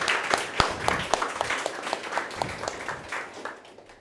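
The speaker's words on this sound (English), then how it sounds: "Let's give a round of applause." Audience at a Mobile Developers Latvia meetup applauds, a moderate scattered clapping of a small crowd in a room, with individual claps audible, steady then thinning toward the end.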